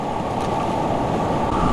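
Loud, continuous river whitewater surges and rushes around a Pyranha kayak on a surfing wave, a dense, unbroken roar close to the microphone with some wind buffeting.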